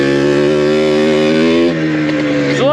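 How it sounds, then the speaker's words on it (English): A 1994 Yamaha Blaster 200 two-stroke air-cooled ATV with a 6-speed manual being ridden, its engine buzzing loud and close with a steady high-pitched drone that drops in pitch and then rises again near the end. "So like I said, this is a 1994 Yamaha Blaster. 200 two-stroke air-cooled."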